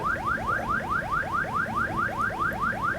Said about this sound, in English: Is that an overspeed alarm?